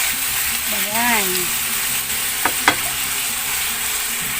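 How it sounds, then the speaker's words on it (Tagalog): Chicken caldereta sautéing in a pan gives a constant loud sizzle, with a short voiced murmur early on and two sharp clicks of a utensil against the pan a little later. "Gisa-gisa lang natin."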